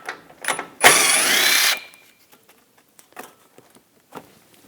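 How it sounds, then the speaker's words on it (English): A 10mm socket ratchet works bolts out of an under-engine shield on a 2013-2022 Buick Encore, giving one close, busy ratcheting burst of about a second, followed by a few faint scattered clicks. "We're going to take this shield off, use a 10mm socket,"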